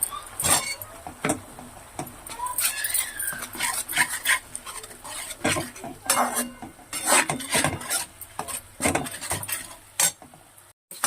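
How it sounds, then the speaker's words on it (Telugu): A pot of fish curry masala being stirred, with a spoon scraping and clinking against the metal in an irregular run of close, clattering strokes, a faint sizzle underneath and no talking. "మసాలా బాగా కలిపిస్తాం"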